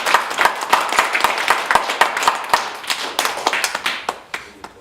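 A small group claps hands in a fairly steady rhythm at a health talk, with sharp close slaps running continuously for several seconds and no speech over them.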